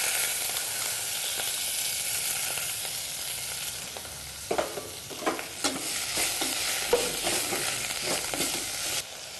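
Finely chopped karpooravalli, tulsi and betel leaves fry in a pan after popping mustard seeds, a steady close sizzle and hiss broken by several sharp scraping stirs with no talking.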